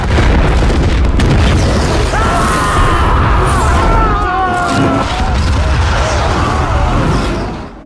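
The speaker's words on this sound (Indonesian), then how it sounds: "terjadilah ledakan yang begitu dahsyat" A massive explosion at an oil refinery in a war film roars as a loud, sustained booming rumble that fills several seconds, with whining tonal sounds threading through before it fades at the end.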